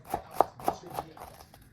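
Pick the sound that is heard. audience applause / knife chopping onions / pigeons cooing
knife chopping onions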